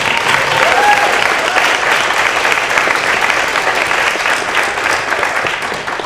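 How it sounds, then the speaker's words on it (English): Sustained applause for the panelists at a session on performing Islam in America, a thick, even wash of many hands clapping throughout, close and loud, with faint crowd murmur mixed in. "round of applause for all of you."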